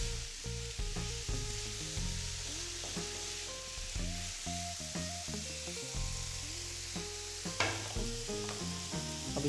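A pan of chicken filling seasoned with black pepper sizzles with a steady, soft hiss beneath louder background music, with no voices.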